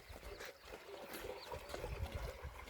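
Irrigation water starts running into a farm field with a faint, continuous trickling and gurgling over a low background rumble.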